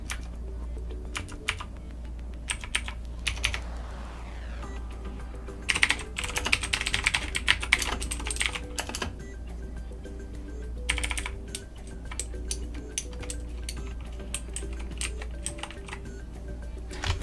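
Mechanical keyboard typing on a Corsair K70 RGB with Cherry MX Red switches and a Razer BlackWidow Chroma: steady close-up bursts of key clicks, denser flurries in the middle, over a low constant hum.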